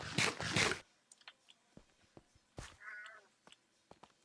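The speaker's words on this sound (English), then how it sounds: "There's my cat again." A pet cat meows at around 3 seconds during Create Integrated gameplay, a short, faint, wavering cry among scattered soft clicks and thuds, after a loud burst of noise at the start.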